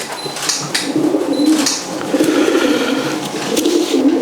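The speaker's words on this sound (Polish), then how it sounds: "Prezentuję gołąbka szpaka." Soft, throaty cooing of a young Szpak pigeon repeats close by in low rolling phrases, with faint clicks and rustling in the background.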